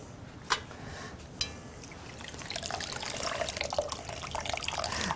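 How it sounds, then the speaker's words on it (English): Leftover homemade chicken stock is poured through a sieve, a soft steady liquid trickle and splash that grows fuller after a couple of small knocks at the start. "Then pour the leftover here."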